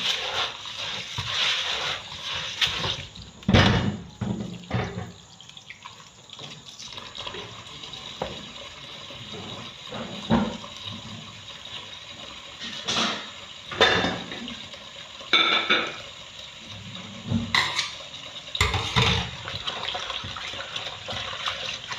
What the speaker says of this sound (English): I want to wash my rice now.